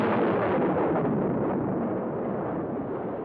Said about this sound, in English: The Soviets detonated their first atom bomb.